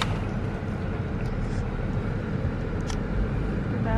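A car reverses slowly near a ditch and a tree on a farm, heard from inside the cabin as a steady, close, low engine and road rumble that carries on without a break.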